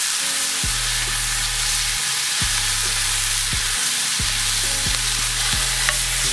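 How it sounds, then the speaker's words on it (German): Porcini mushrooms hitting hard into a hot pan of lard, frying with a constant loud sizzle and a rhythmic series of scraping stirs, about one every second, with no voices. "die Pilze kommen hier in die heiße Pfanne."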